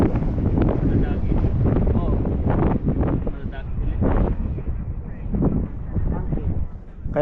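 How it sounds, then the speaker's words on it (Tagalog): Strong wind buffets the microphone outdoors near water with birds about, a steady low rumble and gusting roar running the whole time while people talk over it. "malakas kasi ang hangin"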